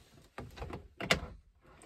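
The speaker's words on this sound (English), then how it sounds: "You come in here, and there's a pin, and you just pull it. And out comes the drawer." A heavy storage drawer in a van slides out after its locking pin is released, giving two quick rattling, scraping pulls close by with brief quiet gaps.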